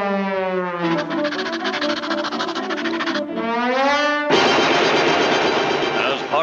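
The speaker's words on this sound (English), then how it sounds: "Here we see the latest long-range rapid-fire coast defense gun in action, shooting 10 million shells a second." Cartoon long-range rapid-fire coast defense gun blasting out shells at an absurd rate, a dense, loud, continuous mechanical chatter with siren-like wailing tones over it and a heavier burst of noisy fire near the end.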